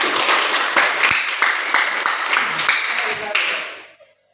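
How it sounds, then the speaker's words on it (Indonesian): Classroom students clap for a classmate during a teaching session, a brisk burst of distinct claps from a small group that fades out toward the end. "Tepuk tangan untuk Rizka"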